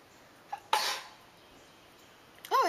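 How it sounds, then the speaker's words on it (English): A single sharp sneeze bursts out from a person in a quiet indoor room, preceded by a faint breathy intake and followed by a short vocal sound near the end. "Oh, I sneezed."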